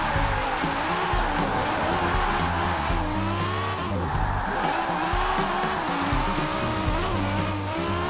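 BMW i8 hybrid supercar in Forza Horizon 4, with an engine whine and a long tire squeal under hard braking that stays loud and continuous, while a voice talks over it.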